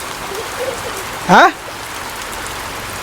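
Steady rain falls in a hot-weather village setting, a soft continuous hiss throughout, with one brief spoken word breaking over it midway.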